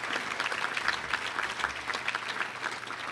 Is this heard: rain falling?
no